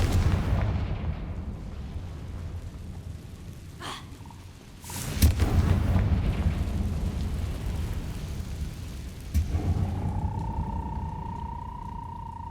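Blasting-spell explosions in Hogwarts Legacy: deep, booming blasts with rumbling tails, a sharp crack near the middle and a heavier burst later, followed by a lingering rising tonal whine over low rumble.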